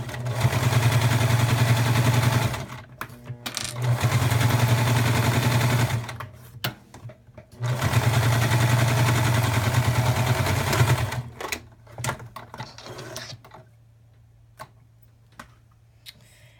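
Sewing machine stitching the top side of fabric baby booties, running in three long steady bursts of rapid mechanical whirring, each a few seconds long with short pauses between, followed by quieter handling noises.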